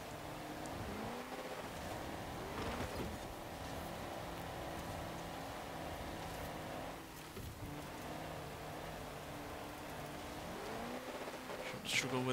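A 1600-horsepower car engine roars in the racing game Forza Horizon 4 during a Titan cross-country race, a sustained growl with rising and falling revs, a sharp dip midway, and a voice talking over it.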